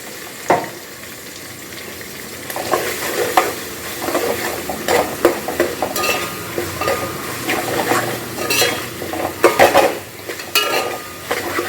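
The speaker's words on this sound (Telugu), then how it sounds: "అల్లం వెల్లుల్లి పేస్ట్ వేస్తున్నాను." Ginger garlic paste fries and is stirred in a pan for a vegetable biryani, with repeated spoon scrapes and clinks against the metal over a soft sizzle, close and steady, with no voices.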